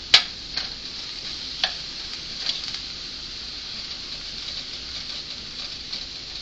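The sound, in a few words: ground beef frying, broken up with a spatula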